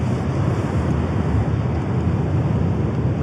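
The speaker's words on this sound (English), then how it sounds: "getting a battering from waves" Waves battering a tent pitched on the shore during wet camping, heard from inside as a steady, dense, loud roar of surf and wind with no talk.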